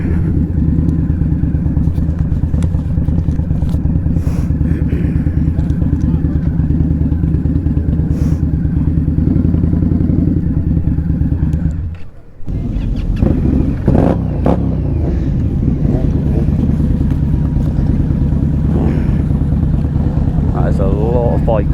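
Indian Scout Bobber riding among a large group of motorcycles on a group ride: a loud, continuous engine drone with buffeting wind noise, dipping briefly near the middle before resuming.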